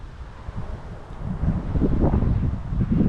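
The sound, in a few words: wind blowing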